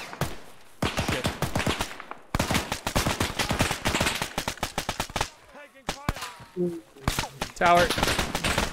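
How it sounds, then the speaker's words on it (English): Rapid gunfire in the military shooter Arma 3 during a multiplayer assault, dense bursts of sharp close shots with short gaps, loud, mixed with voices talking over radio and with each other. "Taking fire!"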